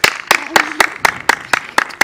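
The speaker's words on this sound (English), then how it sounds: "a round of applause." Sharp, evenly spaced claps ring out for a contestant at a children's gospel song challenge, about eight in a steady rhythm over two seconds, close and crisp, with a faint low voice between them.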